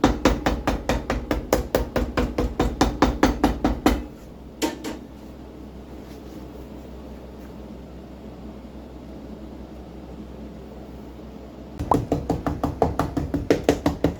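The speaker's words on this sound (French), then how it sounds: "On est en train de taper le lit de pied en place." A hammer taps a boot's foot bed into place during a Blundstone boot restoration: two quick bursts of rapid, evenly spaced taps at the start and end, with a quiet stretch and a couple of stray knocks between.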